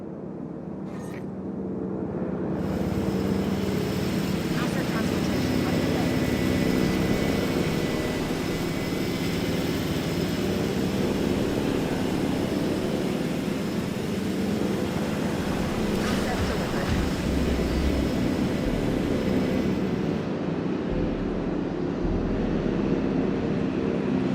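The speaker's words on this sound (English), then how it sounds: "Surprised I had to take direct control of the helicopters picking up the dinosaurs." In the Jurassic World building game, helicopters lifting dinosaurs make a continuous loud whirring rotor and engine roar that holds steady for the whole stretch, with a brief tick at the start.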